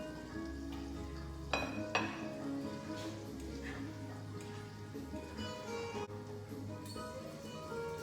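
Cooked Middle Eastern rice is fluffed in the pot, with faint scraping and a few soft clinks of a utensil against metal under a low background hum.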